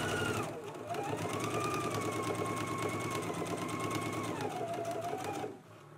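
A sewing machine runs top stitching on a McCall's M8480 garment in one steady, fast continuous burst, close and clear, before stopping abruptly.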